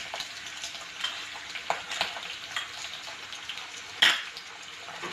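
A spoon stirs chilli chicken and capsicum in a hot pan, scraping and clinking over a steady sizzle, with one louder clatter of utensil against the pan.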